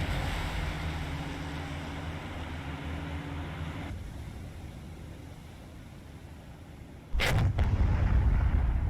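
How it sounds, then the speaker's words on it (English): Naval gunfire in a World War II sea battle game, a sudden loud blast near the end that follows a long stretch of steady, low rumbling engine and sea ambience. "I love the new effects for the gunfire."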